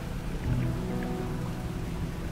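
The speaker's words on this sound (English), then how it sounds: "All this rain is lagging the game a little for me." Steady rainfall in the fishing video game Dredge 2, a constant even patter and wash with no break and no voice over it.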